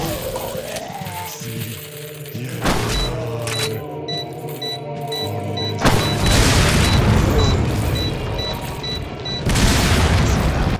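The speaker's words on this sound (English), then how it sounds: "I have a flash grenade." Flash grenade going off in Resident Evil 4, a loud boom followed by sustained noisy crackle and game sound effects, with a high beeping tone in the middle of the blast.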